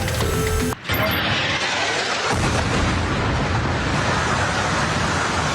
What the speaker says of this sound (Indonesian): pesawat tempur Israel menembakkan rudal dan memicu ledakan besar yang menghancurkan bangunan